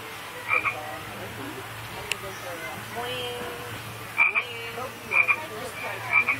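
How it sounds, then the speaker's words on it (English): Artificial frog croaks at an amusement park boat ride in Gilroy Gardens, repeated short croaking bursts spaced a second or so apart over a low steady hum, with soft voices in the background. "I think those are artificial frogs."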